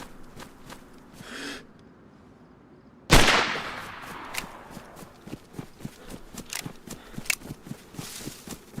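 Enemy rifle fire in the video game Deadfall: one loud, sharp crack rings out mid-clip and decays, followed by a run of quick footstep-like thuds and clatters, with no talk.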